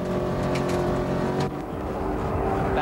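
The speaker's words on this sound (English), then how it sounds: "This big V8 Ford Mustang, just not used to running at this higher altitude" A big V8 Ford Mustang races up the Pikes Peak hill climb, its engine roaring loud and close with a strained, air-starved tone at altitude, holding steady revs with a brief dip partway through.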